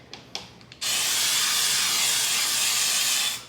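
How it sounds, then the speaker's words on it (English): A few faint clicks, then a loud continuous hiss of cooking spray into an air fryer starts abruptly and holds steady for nearly three seconds before cutting off, with no talking. "And then you're gonna spray the bottom of your air fryer"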